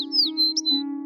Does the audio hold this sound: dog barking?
no